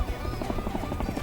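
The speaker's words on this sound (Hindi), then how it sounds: "हेलीकॉप्टर उड़ गया।" A helicopter lifting off, its rotor chop a close, continuous rhythmic thudding that holds steady at moderate loudness with no talk over it.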